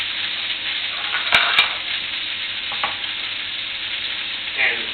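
A beef roulade sears in a hot pan with a loud, continuous sizzle, broken by a couple of sharp clanks of a utensil against the pan and a few spitting pops.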